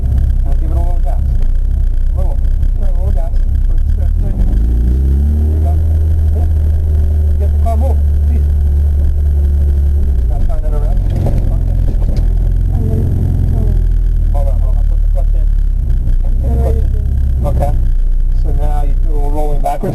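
Manual transmission car engine revving as it is given gas during a driving lesson, a loud, steady low rumble that rises and falls throughout, with people talking over it.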